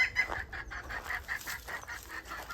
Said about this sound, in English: So like I said, there's one of the hens.